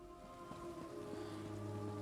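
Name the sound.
rain in The Elder Scrolls Online video game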